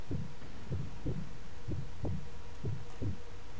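Heartbeat as a sniper steadies his pulse in Sniper Elite V2, about ten low, thudding double beats in a steady rhythm, loud and close over a faint hum.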